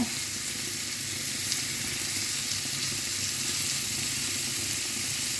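Spicy chilli prawns with tomato and curd simmering and frying in a pan, a steady, even sizzle and bubbling hiss held at constant loudness with no voices.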